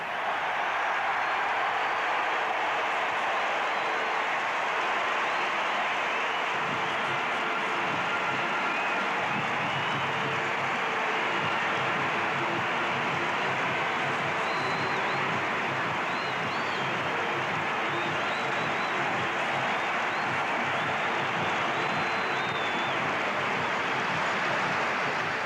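A vast Wembley Stadium football crowd roars continuously as Bobby Charlton leads out England, a loud, steady, distant-sounding wall of cheering that holds unbroken for over twenty seconds.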